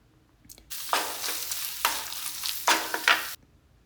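Bought ginger-garlic paste and spice powders for a Kerala coconut chicken curry are stirred in a hot pan. Close, steady sizzling and frying come through in several bursts of scraping and stirring, with no voices.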